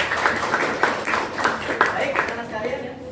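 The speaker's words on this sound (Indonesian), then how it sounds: "tepuk tangan buat kalangan kita" A classroom of students claps for a classmate: a short burst of rhythmic, moderately loud handclaps with a voice speaking over them.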